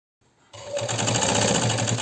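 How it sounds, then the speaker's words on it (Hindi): After a brief quiet start, a sewing machine starts up and runs at a steady, loud, fast whirring rhythm as it stitches a round stool cover. "तो पहले मैं इसको लगा दूंगी सिलाई"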